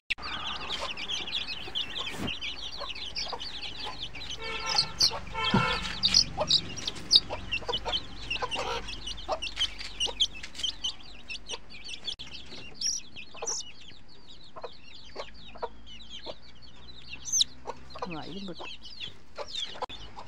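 Many small chicks cheep and peep in rapid, overlapping bursts close by, with the clucking of adult hens mixed in throughout, and some faint background noise.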